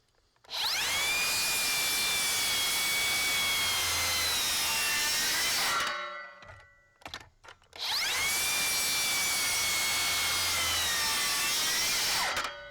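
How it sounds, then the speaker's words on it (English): Makita and Ridgid circular saws each make a 45-degree cut through a treated 4x4, two separate loud whining cuts of several seconds each with a brief quiet gap and spin-down between them. "Let's try a 45-degree cut on each saw through this treated 4x4"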